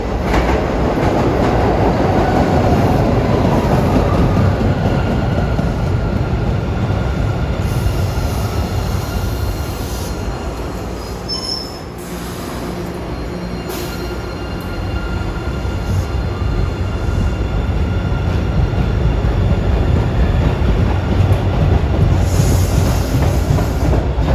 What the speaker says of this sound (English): We have a Wonderland bound train going up the roller coaster profile here at Beachmont.